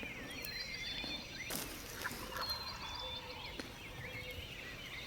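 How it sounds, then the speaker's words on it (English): Two wild toms gobble from a distant tree line, faint rolling calls repeating over windy outdoor ambience, with a few nearby rustles and clicks in between. "There's 2 turkeys gobbling back there, right at that tree line."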